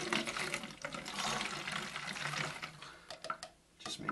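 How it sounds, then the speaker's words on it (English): Hot tap water runs from a faucet, a close, steady splashing rush that dips briefly near the end before resuming. "So this is just hot tap water."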